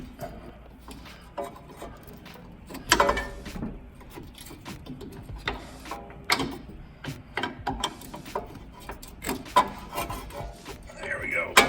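Metal pry tool scraping and levering out a shock mount on a Mitsubishi Montero during a Koni Heavy Track shock install, with irregular close rasping, clicks and knocks spread across the whole stretch.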